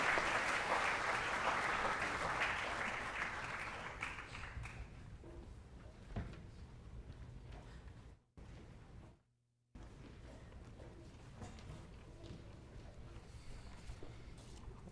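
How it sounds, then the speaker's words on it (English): Loud applause from a crowd at an athletic awards event fills the opening seconds, then fades into a quieter room with scattered taps and murmurs. "let's give them one more round of applause"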